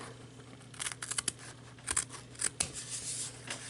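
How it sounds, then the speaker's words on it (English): Quick snips of scissors cutting, a handful of sharp crisp clicks in irregular bursts, close and fairly quiet with no talking. "now we're going to take our scissors"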